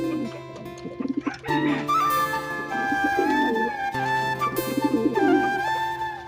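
Close pigeons give low, soft cooing calls in repeated bursts, with music playing in the background.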